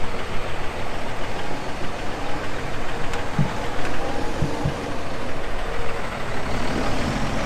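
A wood chipper's engine runs in a continuous rough rumble with broadband roar, steady and moderately loud, with a few faint knocks partway through.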